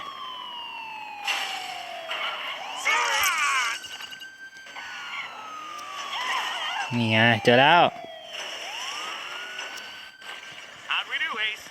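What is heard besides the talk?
police car siren in video game Gangstar Vegas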